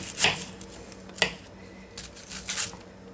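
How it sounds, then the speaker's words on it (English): A knife chops an onion finely on a cutting board, making a few sharp, uneven knocks over a soft background, close by. "So we will get the onion chopped up."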